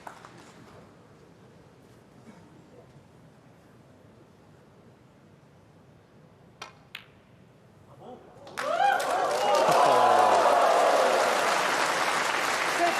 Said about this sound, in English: the crowd absolutely loving this